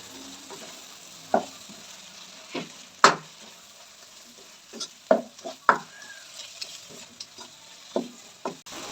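Spices and softened tomatoes frying in a pan for aloo keema matar, stirred with a utensil that gives sparse, sharp scraping and tapping knocks against the pan over a faint low sizzle.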